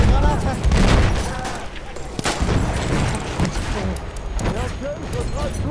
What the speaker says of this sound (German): Ich werfe die Granate!